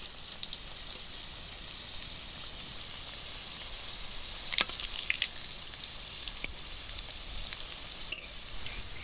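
Chicken samosas fry in hot oil with a steady, soft sizzle and scattered small pops and crackles, close and unbroken, with no talk.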